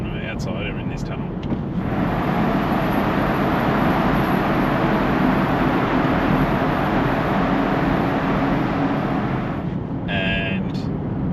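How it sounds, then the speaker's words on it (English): Broadband road roar from a 2024 refreshed Tesla Model 3 driving through a tunnel with the windows down, a steady loud wash that swells in and fades as the windows close. "I'm just going to put the windows down for a second so you can hear the actual noise from the outside or in this tunnel."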